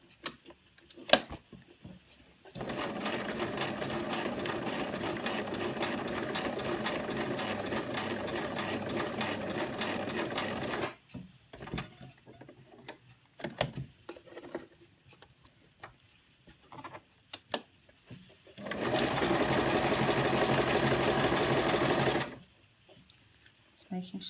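A sewing machine stitches fabric in two long runs of rapid mechanical whirring, stopping between them to pivot at the needle. Quiet clicks and handling noises fill the pause, and a person talks during the gap.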